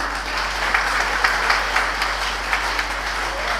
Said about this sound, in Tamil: வாமா இந்த அம்மாவுக்கு ஒரு கைத்தட்டு கொடுங்க